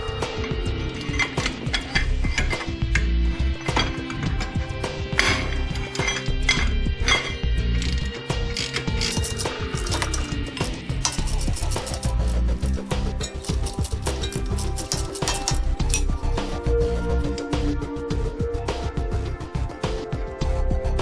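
Metal wrench clinks and ratcheting clatter while removing brake caliper bolts on a 1990 Honda Accord, close and busy, a dense run of sharp metallic taps and scrapes over a steady low background with no talk.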